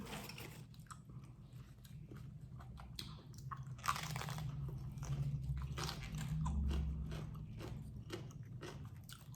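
Fresh cooked crayfish being bitten and chewed up close, with repeated crunchy bites and wet chewing spread steadily across the clip, no talking.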